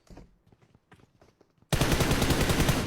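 A PUBG pre-fire burst erupts suddenly and loudly after a stretch of quieter scattered game sounds and footsteps, continuing as dense sustained automatic fire to the end.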